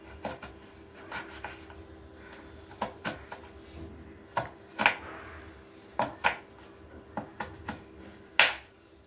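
Sharp knife chops through banana stem on a board, a string of crisp, uneven taps, some close and bright, with short pauses between strokes and a faint steady hum underneath.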